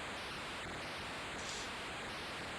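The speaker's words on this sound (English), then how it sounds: "the crowd noise is continuing here, even though we're not attacking a goal" Crowd noise in the Amstrad CPC rugby game International Rugby Simulator is a steady wash of hissing white noise that stays flat and unbroken throughout, with no voices.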